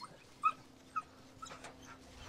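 Female Çapar sheepdog whimpering with a few short high yips at a sheep farm, soft and close with quiet gaps between the cries.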